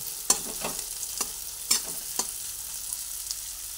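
Potato filling frying in a pan, a soft steady sizzle broken by several sharp spoon scrapes and knocks as it is stirred, close and without speech.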